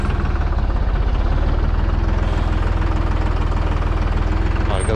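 A Deutz 55 F tractor engine runs steadily at moderate throttle while spraying okra in a field, a loud, close, even diesel chug with rapid regular firing pulses throughout.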